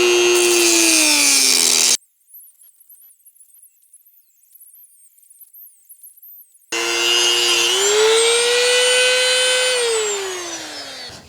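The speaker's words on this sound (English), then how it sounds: "Using my Dremel tool with the easy lock, thin cut." Dremel rotary tool fitted with a thin cut-off wheel cutting a shower tub drain part, a loud whining high-pitched grind that stops for a few seconds, then resumes and rises in pitch before trailing off.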